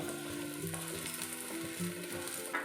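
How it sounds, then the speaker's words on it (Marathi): A paratha roasts in ghee on a hot pan, giving a soft, steady sizzle and light crackle that stays quiet and continuous throughout. "छान असा खरपूस भाजायचा आहे हा पराठा"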